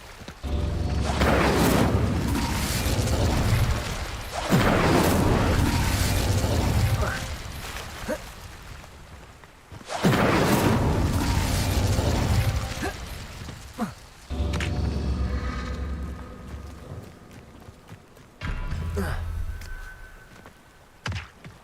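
Hogwarts Legacy's Incendio fire spell: a run of loud, booming fiery bursts, each a few seconds long with a thudding onset, separated by short gaps.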